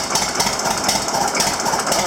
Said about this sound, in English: Oh, it's even idling